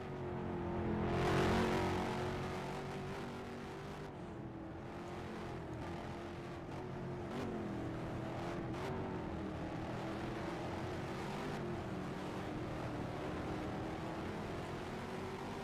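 Twin turbo V6 race cars lap a historic Halifax track in a modded video game race, a continuous buzzing engine drone with shifting pitch as cars rev and pass.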